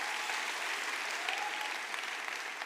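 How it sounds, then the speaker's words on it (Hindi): Audience at a business motivational seminar gives loud, sustained applause, a thick continuous clatter of many hands holding steady throughout with no talking. "मेजर साहब के लिए जोरदार तालियां।"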